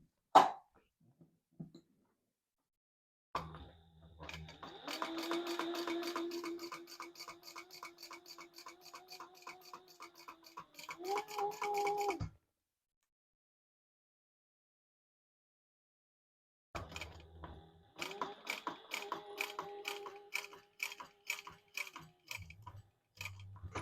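Sewing machine stitching a crossbody bag: two runs of rapid, whirring, ticking stitching, the first lasting about nine seconds and then stopping abruptly, the second starting after a pause of several seconds, with a few short ticks at the start and no talk.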